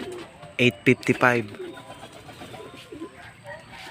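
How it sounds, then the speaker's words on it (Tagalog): A racing pigeon back from a derby lap gives a short burst of close, throaty coos. A voice speaks quietly in the background. "Itong ibon na to kahit super bagal, pero umuwi."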